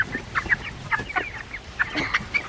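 Chickens on a homestead farm cluck and squawk in quick, irregular bursts, close by and fairly loud, with no talking.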